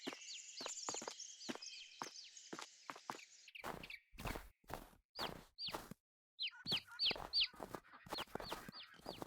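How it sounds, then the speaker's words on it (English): Chickens in the video game Farming Simulator 22 cluck and squawk in short repeated bursts, interspersed with quick tapping steps, with a brief silent gap partway through. "we also have adult chickens in here somewhere"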